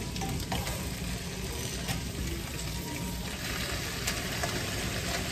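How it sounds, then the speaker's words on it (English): Garlic and head-on shrimp fry in a pan with a loud, dense, continuous sizzle and crackle, close and steady throughout with faint stirring scrapes. "And then I'll add in the shrimp."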